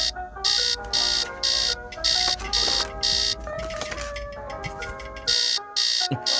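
An alarm clock rings in bursts of a shrill electronic pattern, repeated evenly about every half second, with a brief pause just before the final stretch.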